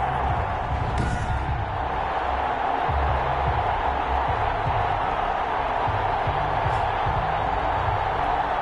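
A stadium crowd roars continuously at an NFL game in a video game, the Giants against the London Black Knights, a dense steady wash of cheering under low rumbling thuds, with a commentator's voice over it.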